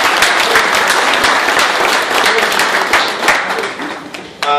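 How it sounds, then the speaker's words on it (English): A crowd applauds warmly at a Harley-Davidson dealership event, dense sustained clapping from many hands, loud and close, fading slightly toward the end as a voice begins. "Round of applause for everybody at Gengras."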